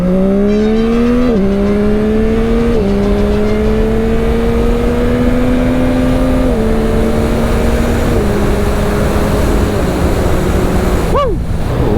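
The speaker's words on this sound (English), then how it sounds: "Love this motorcycle." A motorcycle engine drones steadily at high revs while riding, its pitch climbing through a series of gear shifts, loud and close, with a brief whooshing pass near the end.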